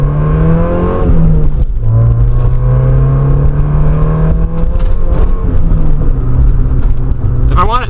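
A Corvette running without a hood drives past, its engine rumbling and revving up and down with a rising, falling tone, loud over steady road noise.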